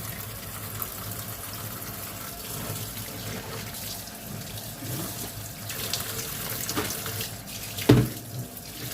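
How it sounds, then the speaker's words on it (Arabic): Tap water runs into a sink while crabs are rinsed, a steady continuous splashing flow with a brief louder splash near the end and no talking. "نشطفها كويس"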